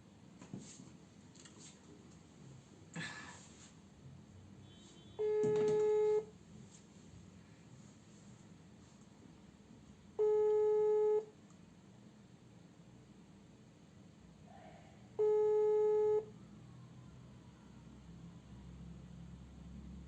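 A telephone line gives three evenly spaced electronic tones, each lasting about a second with a long gap between, heard through a phone handset over a quiet hiss.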